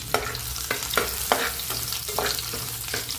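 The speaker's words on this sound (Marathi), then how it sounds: "तेल आपलं गरम झालेलं आहे आता आपण याच्यात टाकणार आहोत दालचिनी लसूण आपण याला हालून घेऊया" Cinnamon and garlic sizzle in hot oil while being stirred, a steady close frying hiss broken by regular scraping strokes of the spoon, with no talking.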